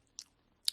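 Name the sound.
chewing tomato onion chutney with vada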